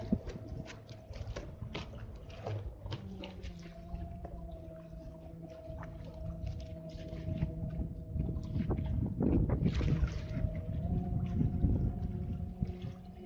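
A steady small electric boat motor hum with a sustained tonal whine runs throughout, on a homemade wooden mini boat on a river, with water splashing and wind buffeting growing louder toward the end.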